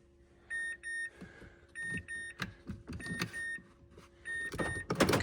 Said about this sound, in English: lock and lock, unlock appear to work